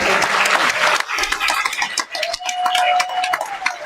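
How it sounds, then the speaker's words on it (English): A live audience claps for two political candidates at the close of a candidate forum, a dense burst of applause that thins out into scattered claps as a voice talks over it. "Let's give them one more big round of applause."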